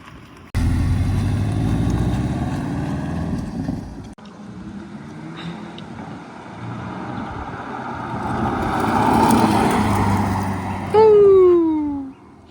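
A Porsche 718 S styled as a GT4, on real GT4 rims, drives off with a steady engine roar and heavy wind rush, then rises into a climbing whine as it accelerates near the end.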